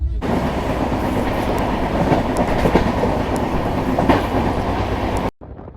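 Rajdhani Express passenger train running on rails, a loud, steady rumble with rhythmic clickety-clack from the wheels, heard close from on board and ending abruptly.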